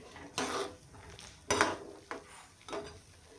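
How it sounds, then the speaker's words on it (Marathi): A metal lid set down on a pot of soybean curry on the stove, giving a few separate clanks and clatters spaced over a few seconds, close by, with no talking. "तर आता आपण ह्याला शिजण्यासाठी थोडंसं झाकण घालून ठेवूयात."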